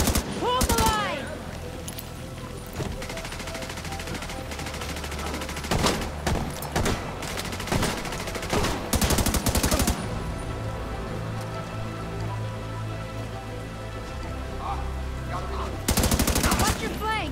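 Bursts of automatic gunfire and single shots crack through a firefight in The Division 2, loud and close, with dense fusillades in clusters over a constant background of rain-like noise and battle clatter.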